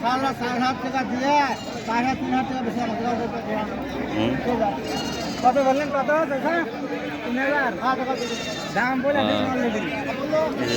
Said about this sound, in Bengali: ছোট যে দুটি ছাগল